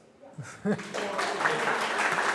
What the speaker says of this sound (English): I think we should first pause for a little applause.